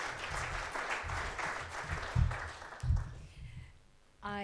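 Audience applause at the UNESCO–Merck Africa Research Summit 2015 conference greeting Dr. Rasha Kelej, a steady broadband clapping wash that thins and fades toward the end before a voice begins.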